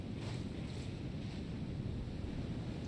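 Loud, steady wind roars without pause through an outdoor mountain scene in the survival game Sons of the Forest, a dense broadband rush with no talk over it.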